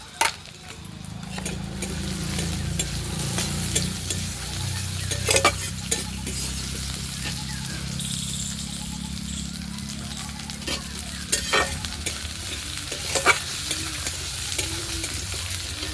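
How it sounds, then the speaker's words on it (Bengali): Mango pieces sizzle steadily in a hot pan, with repeated scraping and clinking of a spatula stirring them through the oil, close and continuous for the whole stretch. "আমটাকে একটু ভালো করে ভেজে নেব।"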